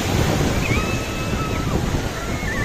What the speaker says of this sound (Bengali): সুন্দর সুন্দর ঢেউ আসছে